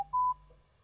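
Telephone call tones on a radio phone-in line: a brief click, then a single steady mid-pitched dial tone about a fifth of a second long, leaving a faint low hum behind it.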